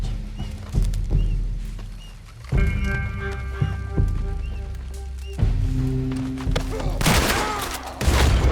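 Gunfire in the video game Red Dead Redemption 2 during a tense standoff, sharp shots popping amid a busy game soundscape with music tones and a voice talking between bursts.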